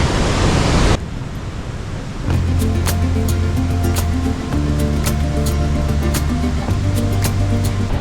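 Waterfall pouring into the Devil's Kettle on Minnesota's North Shore, a loud, steady rush of falling water with continuous broadband roar, while a tonal hum and some clicks sound over it partway through.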